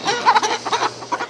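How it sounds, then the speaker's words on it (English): Chickens clucking close up, a string of short soft clucks and murmurs in uneven bursts, fairly clear against a quiet background. "Chicken, awake. Chicken."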